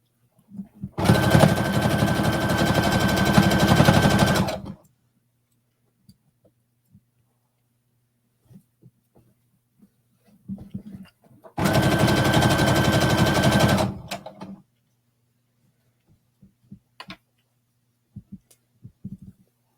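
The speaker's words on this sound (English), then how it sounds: "Almost done top stitching this hood." Sewing machine running in two sustained bursts of about four and three seconds while top stitching a hood, steady buzzing whir with quiet handling noises and near silence between runs.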